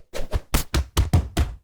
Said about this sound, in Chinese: 打斗